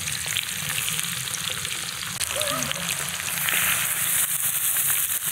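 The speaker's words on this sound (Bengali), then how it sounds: "তেল গরম হয়ে গেছে, একটা একটা করে এখন কড়াইতে দিই।" Pumpkin leaf fritters coated in ground lentil and rice batter sizzle steadily in hot mustard oil in a kadai, a loud continuous crackle with occasional stirring and no talk.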